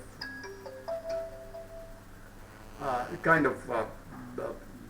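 A phone ringtone plays a short melodic sequence of tones for about two seconds, clear but moderate in level, followed by a voice talking.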